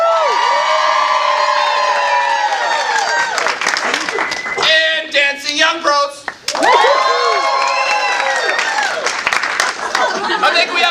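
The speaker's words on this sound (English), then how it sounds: "we're going to have to do a cheer-off for the Name for Any Whatever and the Dancing Young Pros" An audience at a Rotary game show cheers loudly in a cheer-off tiebreak, with sustained whoops, shouts, and clapping close and full, briefly dipping midway before surging again.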